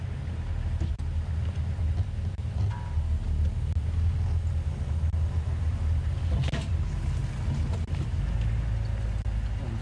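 A safari vehicle on a game drive rolls slowly into position at a lion sighting, its engine a steady low rumble throughout, with a brief rattle and thump midway as it moves over rough ground.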